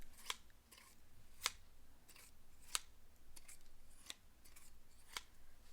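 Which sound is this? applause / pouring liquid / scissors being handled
scissors being handled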